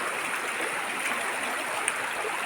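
Water in a boulder-filled river pours over the rocks in a constant, loud, close wash of broadband rushing, unbroken for the whole stretch, with no one speaking.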